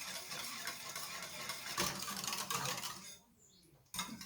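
Pandan white jelly simmering in a pot on the stove is stirred with a utensil, giving a steady scraping and bubbling texture for about three seconds before it goes quiet, then a brief knock.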